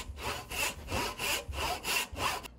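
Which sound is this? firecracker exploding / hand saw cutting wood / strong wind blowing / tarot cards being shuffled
hand saw cutting wood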